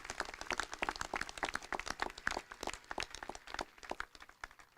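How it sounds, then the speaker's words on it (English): Audience at a high school senior graduation ceremony applauding for the graduates' families: sustained, fairly distant clapping from a large crowd, dense and continuous for several seconds. "Let's give them all a well-deserved round of applause for your families and everybody"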